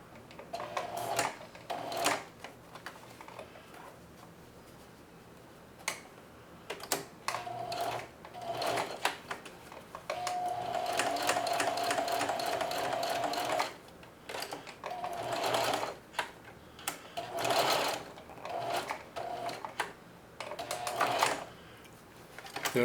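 A sewing machine runs in repeated bursts of fast straight stitching on an apron strap, close and clear, with one longer continuous run in the middle and short pauses between the others.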